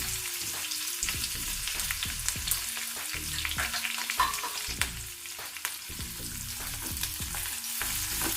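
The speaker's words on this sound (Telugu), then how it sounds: "కొంచెం ఉల్లిపాయలు, మిరపకాయలు కలర్ మారే వరకు వేయించుకోవాలి." Chopped onions and green chillies fry in a pan for gongura rice. A steady sizzle runs throughout with repeated stirring scrapes at a regular pace, close and fairly loud.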